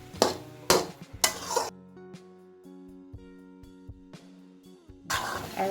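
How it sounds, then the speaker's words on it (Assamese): Grated coconut and sugar being fried in a kadai, with sharp bursts of stirring and scraping against the pan between quieter stretches of soft sizzle and a low background hum. "এতিয়া আমি ইয়াত কেৰাহীত এইখিনি গোটেই গুড়ি, নাৰিকলৰ গুড়ি আৰু চেনি ভালদৰে ভাজি ল'ব লাগিব"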